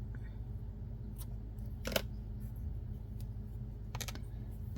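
Scissors snip knitting yarn from a small beginner knit kit, giving a few short, crisp clicks spread apart and fairly close, over a steady low room hum.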